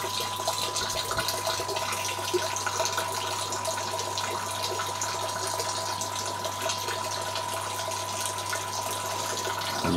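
Water with live blackworms pours into an aquarium tank, making a steady gushing, splashing flow at moderate volume with no talking.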